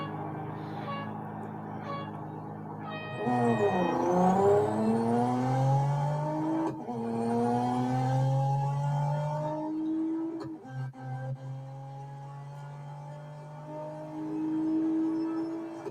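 A race car engine in the Real Racing 3 mobile game revs and accelerates through repeated gear shifts, rising whines dropping at each change, loud and steady over sixteen seconds.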